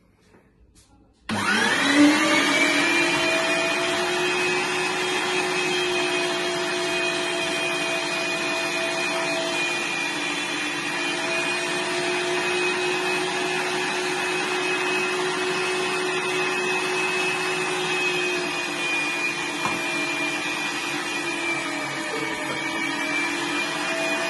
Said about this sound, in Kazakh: Қазір мына мясорубкадан чеснокты өткізіп аламыз.